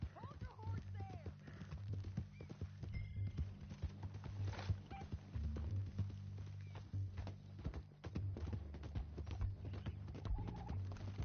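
Horse hooves clip-clop steadily on a hard surface in a Red Dead Redemption game soundscape, with an occasional whinny and low music under talking voices.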